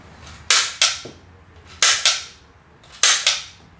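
Sharp popping shots from a shooting gallery gun fired at balloons at a fairground booth come in three quick pairs, each a loud crack with a short decay, over a low background murmur.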